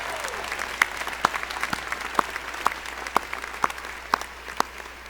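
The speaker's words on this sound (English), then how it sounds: "let's take a minute and just give a round of applause for our family and friends who came out hundreds of miles just to see us here today" A university commencement crowd applauds family and friends in a sustained, dense round of clapping. A few loud, close claps ring out at a steady rhythm above the rest of the crowd.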